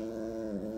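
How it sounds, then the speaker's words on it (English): A pet rabbit gives a low, steady growling rumble, close and continuous for under a second, with a slight rise near the end and nothing else heard. "That's why she's growling."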